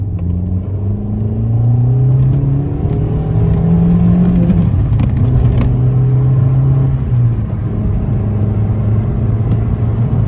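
A Fiat Panda 100HP hatchback's engine revs hard and climbs through the gears, loud and close, with repeated rising whines as it accelerates.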